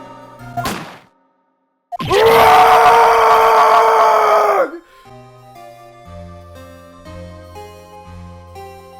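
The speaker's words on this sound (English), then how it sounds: "It's that scream I heard in the elevator." A man's long, loud, agonized scream sounds from the Phoenix Wright: Ace Attorney video game. A short cry and a silent gap come first, then the sustained scream cuts off into quiet, tense game music.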